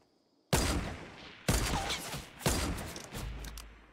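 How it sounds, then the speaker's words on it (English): Semi-automatic gunfire in a solo-versus-duos shooter match: three loud, sharp single shots spaced about a second apart, each trailing a rumbling echo, with faint mechanical clicks near the end. "it's so hard shooting a fucking semi-auto"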